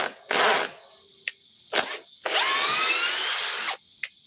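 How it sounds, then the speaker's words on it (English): A cordless drill with its clutch set to 13 whirs in several short bursts, then runs in one longer, steady spell, loud and close with brief pauses between, as a screw goes in. "This drill, I bought this as a demo unit at Lowe's."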